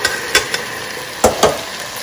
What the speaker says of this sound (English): I'm going to stir fry this for about 5 to 6 minutes until the oil separates